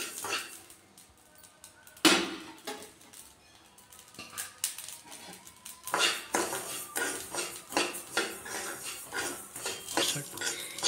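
Curry leaves fry in a pan, giving steady crackling sizzle with sharp clatters of a utensil against the metal, louder bursts around the start and midway, and no voices.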